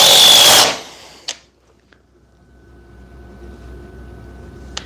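Flex and DeWalt DCF860 impact drivers on 15 Ah FlexVolt batteries sink 4-inch screws, a loud dense burst of whirring and hammering for well under a second, then a sharp knock and quiet tapping.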